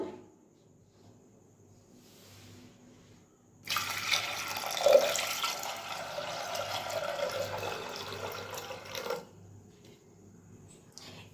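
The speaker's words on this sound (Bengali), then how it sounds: "এবারে দিয়ে দেব পরিমাণ মতো জল।" Water pours into a pot of chana dal for Cholar Dal in a steady, close splashing stream lasting about five seconds, with quieter kitchen sounds before and after.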